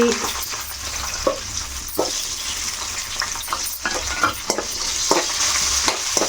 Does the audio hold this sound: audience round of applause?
no